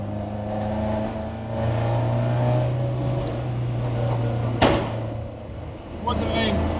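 A Ford Mk2 Escort with a troublesome clutch drives along, its engine humming steadily from inside the cabin with a brief knock partway through and speech over the top.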